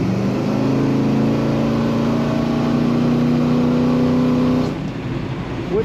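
A 1963 Ford Fairlane 500 two-door hardtop engine held at a steady, loud, close rumble for several seconds, then cutting back abruptly near the end.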